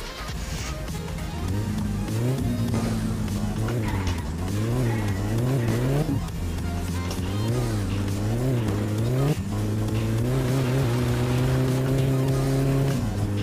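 A car engine in the driving game My Summer Car revs hard and loud throughout, its pitch rising and falling in repeated surges, with tire skids mixed in and no talk.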